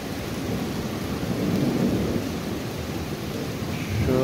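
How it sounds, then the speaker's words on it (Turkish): Heavy rain pours steadily at night while low thunder rumbles underneath, a dense continuous wash of sound with no voices. "yağmurun durmasını bekliyorum"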